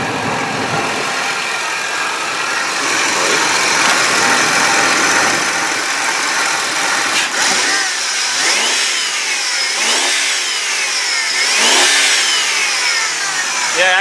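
A 2002 Ford F-150 SuperCrew XLT 4x4 engine idles loudly and steadily up close, and its rough running tone is joined partway through by several rising and falling tonal sweeps.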